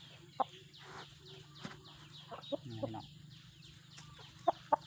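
Chickens cluck softly and intermittently at a farm, small scattered calls over a low steady background hum, with a few sharp clicks or knocks standing out.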